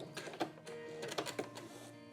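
A sewing machine stitches through Bosal In-R-Form foam, giving a quiet mechanical whir with rapid rhythmic needle clicks and taps, close up and with no voices.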